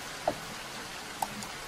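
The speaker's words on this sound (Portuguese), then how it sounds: "Lá fora, cai uma chuva torrencial." Torrential rain falls outside a laboratory as a steady, soft, even hiss, with a couple of brief drip-like ticks standing out over the wash.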